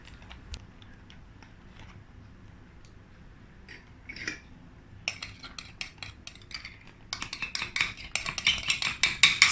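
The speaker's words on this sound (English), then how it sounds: "Add the marinade." Marinade poured and squished into a Ziploc bag holding pork shoulder loin, close crinkly plastic rustles and sharp crackling that grow busier and louder toward the end, with no talking.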